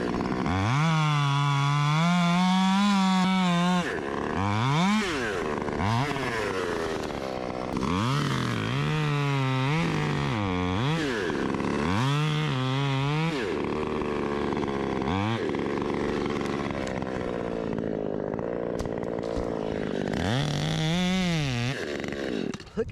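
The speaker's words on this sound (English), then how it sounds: "Look at this saw how it rips." Husqvarna 540 XP Mark III chainsaw, ported, with a 16-inch bar and Speed Cut Nano chain, cutting fir up close, loud and alone, its engine repeatedly revving up into the cut and dropping back over many passes.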